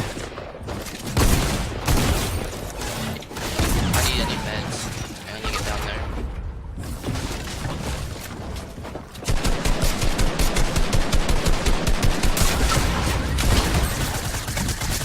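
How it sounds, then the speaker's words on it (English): A new shotgun fires rapidly in a video game, with dense, loud bursts of repeated shots packed together in a frantic gunfight, growing into a steady pounding stream in the second half. "Check out this clip of DK killing it with the new gun"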